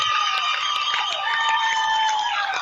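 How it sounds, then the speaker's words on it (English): Basketball crowd at a Haxtun versus SCC tournament game rising in a standing ovation for a player, a steady wall of cheering, whoops and shouts with a few claps, loud and sustained throughout. "Goddard gets a standing ovation from the crowd"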